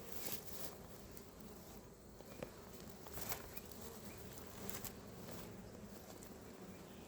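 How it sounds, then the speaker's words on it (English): Honeybees swarm densely around a hive kept with an overwintered queen, giving a steady, soft, continuous buzz with occasional louder passes of single bees nearby. "just tons of bees"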